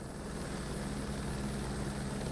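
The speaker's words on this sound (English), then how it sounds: "On board the helicopter, Captain. Dark Star Rescue, ready to evac." A rescue helicopter in the video game Microsoft Flight Simulator 2024 gives a steady, loud rotor and engine drone that stays constant and close, with no voices.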